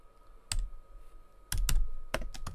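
Typing on a computer keyboard while writing code for a Roblox Studio camping game: several short bursts of clicky keystrokes, spaced irregularly, close and moderately loud with no talking.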